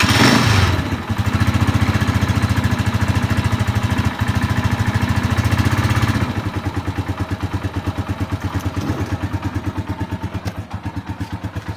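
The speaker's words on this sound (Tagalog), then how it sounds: "Gaano katahimik yung motor natin." A manual motorcycle engine idles steadily after an oil change with Supremium Moto X3M 15W-40 oil, a loud, even, close putter running alone and easing slightly quieter partway through.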